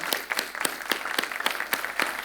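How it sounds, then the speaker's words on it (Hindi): A scattered round of clapping from a small audience, sharp claps arriving in uneven bursts throughout, fairly quiet and without voices. "आप सबसे तो जोर की तालियां बजती"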